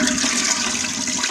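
A toilet flushes with a cracked glow stick inside, a loud rushing gush of water heard up close and alone for just over a second.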